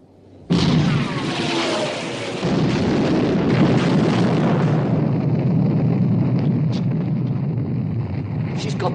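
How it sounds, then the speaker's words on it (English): A warship's main guns open fire, a sudden loud blast followed by a sustained roaring rumble of gunfire and shell explosions, with faint shouted voices and small crackles toward the end. "Open fire, main armament."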